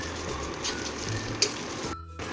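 Cranberries roast and get mashed in hot ghee in a pan, giving a steady close sizzle with soft scraping throughout and a brief break near the end.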